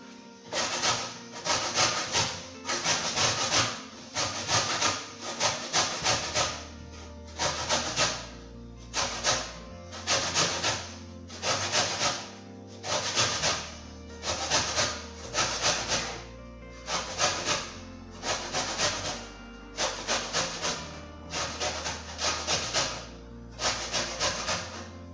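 A single lemon is zested in a kitchen for a lemon cake, a long run of regular scraping strokes, close and crisp, repeating steadily with short pauses and no voices.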